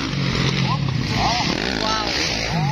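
Motorcycle exhaust at a berm race blares loud and raspy, buzzing continuously with shifting revs amid crowd noise.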